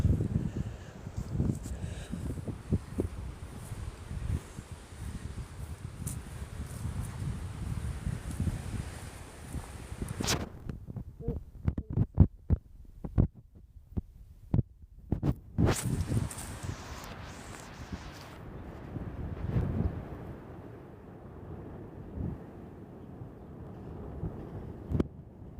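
Strong gusts buffet the microphone in a cemetery on a very windy day, loud rumbling blasts broken by quieter stretches with rustling and scattered footstep-like knocks.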